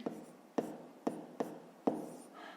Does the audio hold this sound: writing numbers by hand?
yes